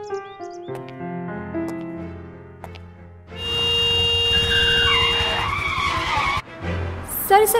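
A car skids with a loud, sustained tire squeal lasting about three seconds, then cuts off abruptly. Soft tonal music plays before the skid, and a brief bright sound follows it.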